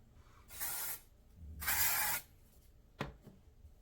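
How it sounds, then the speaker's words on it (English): Dry shampoo sprays onto a synthetic wig in two quiet aerosol bursts, the second one longer, followed by a brief click or tap. "I'm gonna put some dry shampoo on it."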